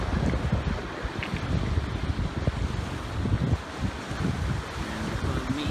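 Steady, gusty wind buffets the microphone throughout at a chilly tree-line campsite by a mostly frozen wilderness lake, a broad roaring rush with no voices.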